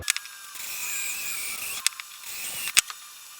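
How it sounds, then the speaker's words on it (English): A drill bit reams out the throttle base plate bushing of a rotten 1971 Quadrajet carburetor, giving a thin high whir in two bursts punctuated by sharp clicks of the tool. "And then we're just gonna ream it out with this original bit."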